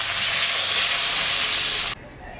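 Water poured into fried spices in a pan while cooking a rohu fish curry with potato and eggplant, bursting into a loud, steady hiss of sizzling steam that cuts off abruptly to a much quieter simmer near the end.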